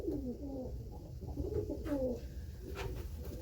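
A racing pigeon coos in a small loft, with soft, low, rolling coos repeating close by in a steady rhythm against faint background noise.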